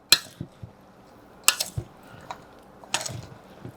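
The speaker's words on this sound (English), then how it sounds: "And next we're going to start stirring it. Get a big old spoon" A big spoon stirs chunky homemade avocado salsa in a bowl, giving three separate bursts of sharp clinks and scrapes against the dish with soft wet squishes between them, close and clear.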